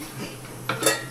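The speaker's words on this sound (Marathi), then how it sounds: "ताईसला काय भांडी घासायला बोलवलंयस?" Dishes, pots and pans clink and knock together briefly and fairly softly in a home kitchen, with a couple of sharper metallic hits near the end.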